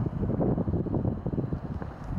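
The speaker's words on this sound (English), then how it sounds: "And it is windy" Gusty wind buffets the microphone high on a mountain, a low rumbling roar that surges and dips unevenly throughout.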